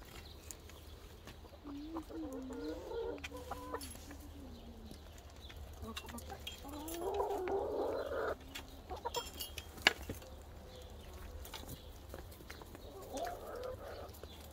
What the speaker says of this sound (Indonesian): Ada ayam, dia lagi bertelur berarti.